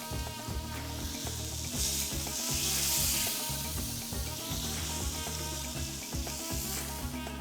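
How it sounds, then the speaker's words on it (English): Sirloin steaks for carne asada sizzle on a griddle, a steady, close frying hiss that swells slightly midway and holds throughout. "It's been here grilling for 8 to 10 minutes"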